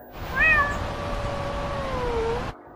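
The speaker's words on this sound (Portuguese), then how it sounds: "Outro miado." A single drawn-out cat meow sounds clearly from a song, rising then sliding down over about two seconds against a faint musical backdrop, with no talking.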